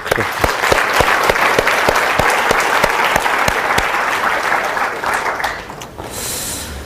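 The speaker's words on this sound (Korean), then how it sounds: "우리 심찬 찬양팀에서 감사의 박수 한번." Applause of thanks from a leadership-conference audience for the worship and headquarters teams, a dense, loud burst of many hands clapping with sharp individual claps standing out, tapering and thinning toward the end.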